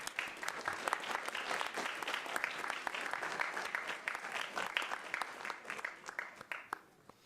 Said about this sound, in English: We'll clap again to let them get off the stage here.